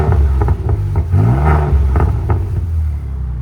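A Ford Raptor with a tuned exhaust rumbles deep and loud up close, with short rev blips and a series of sharp pops and crackles.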